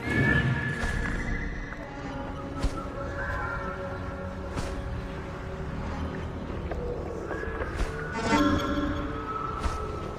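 A horse whinnies in Assassin's Creed Origins, set in ancient Egypt, over a dense, steady game soundscape with music and ambience; brief neighs rise out of the mix, with some faint hoof and action noise.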